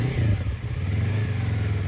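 A motorcycle engine runs close by with a steady, throbbing low putter that swells slightly as it is revved, loud and continuous throughout the brief stretch, with no talking.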